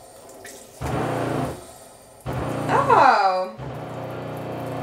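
Water runs from a tap right after a newly installed water pump is switched on in winter, flowing in bursts with a loud whining pump tone rising and falling, while a person speaks briefly.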